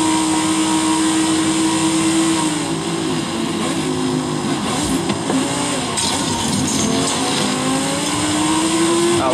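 A race car engine in Forza Horizon 5 drones loud and steady at high revs, shifting pitch as it accelerates and settles, with hints of tire noise and no talking.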